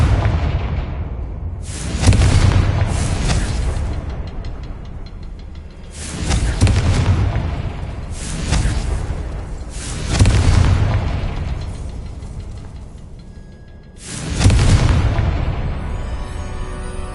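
Repeated heavy booms from the Confringo explosion spell in a wizard video game, five loud blasts spaced a few seconds apart, each with a long rumbling decay.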